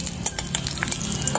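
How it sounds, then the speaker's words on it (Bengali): A torn bay leaf and two broken dried red chillies sizzle as a tempering in hot oil, with a steady frying crackle and a few light clinks of a spoon stirring in the pan, close and moderately loud. "একটা তেজপাতা আমি মাঝখান দিয়ে ছিঁড়ে দিয়ে দিলাম আর 2টো শুকনো লঙ্কা মাঝখান দিয়ে ভেঙে আমি ফোড়নে দিলাম"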